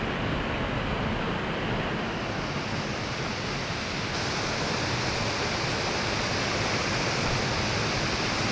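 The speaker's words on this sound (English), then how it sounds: "We're at the base here, the first waterfall" Roaring cascade of the first waterfall at Twin Falls on Maui, Hawaii, heard from its base as a dense, constant broadband rush of falling water, loud and unbroken, with no talking.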